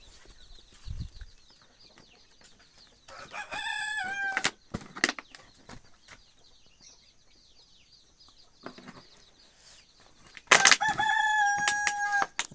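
A rooster among free-range village chickens crows twice, two loud drawn-out calls several seconds apart, with brief sharp knocks and quiet hen sounds in between.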